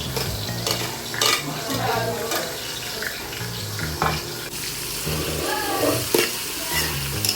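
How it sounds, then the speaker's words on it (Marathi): Onions browning in hot oil in a home kitchen while a vegetable biryani is being made, with a continuous close sizzle and frying hiss broken up by repeated stirring scrapes and clatters, and no talking. "आणि आता तेल इथं तापला. आपण आता कांदा ब्राऊन करून घेऊ."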